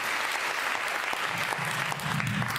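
Sustained applause from an audience at a panel discussion on Alaska's marijuana legalization initiative, steady and dense clapping throughout without talk.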